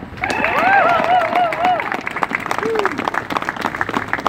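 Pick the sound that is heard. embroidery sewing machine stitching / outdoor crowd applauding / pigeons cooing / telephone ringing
outdoor crowd applauding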